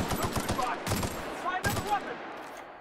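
Rapid bursts of automatic gunfire in The Outer Worlds video game, fired at enemies in quick repeated volleys that come up close and loud, with game sounds running underneath.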